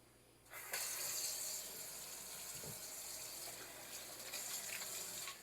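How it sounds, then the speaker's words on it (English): Tap water runs steadily into a kitchen sink as hands are washed, a continuous close splashing hiss that starts abruptly after a brief quiet moment and holds for about five seconds. "Let me wash my hands."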